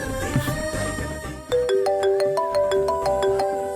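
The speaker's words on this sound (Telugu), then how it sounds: "ఇదిగో మేనేజర్ ఫోన్ చేస్తున్నారు." A phone ringtone plays for an incoming call from a manager, a bright repeating melodic chime entering clearly and loudly midway and continuing steadily to the end over a soft indoor background.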